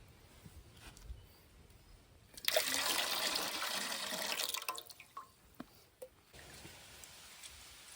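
Water running or trickling in an outdoor village setting while a Bacardi and nannari sarbath drink is made, a loud steady burst for about two seconds that tapers into fainter dribbles and drips.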